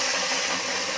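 Water poured into a kadai, a steady rushing hiss and splash that fills the whole moment without a break.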